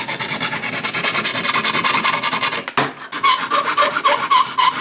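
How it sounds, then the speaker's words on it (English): Steady rhythmic rasping of a file on the ends of copper tubing, repeated strokes close up, with a brief pause partway before the filing resumes. "You want to make sure you just file the ends."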